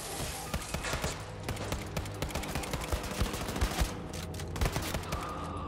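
Rapid, dense gunfire from the video game Wolfenstein II: The New Colossus, a sustained barrage of overlapping shots with sharp individual cracks punching through, loud and continuous throughout.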